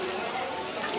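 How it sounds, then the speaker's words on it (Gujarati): Rain falls steadily at Bagdana in Gujarat, a soft continuous hiss filling the short moment at a moderate level with no clear individual drops. "કેવો પડ્યો છે વરસાદ."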